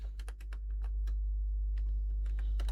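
Rapid keystrokes on a computer keyboard, close and clear, clicking in short irregular bursts over a steady low hum, with no voices.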